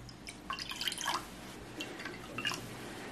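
Water poured from a container into a bowl of seasoning sauce made with salt and light and dark soy sauce, giving light splashy trickles and drips in short bursts, fairly faint, with no talk.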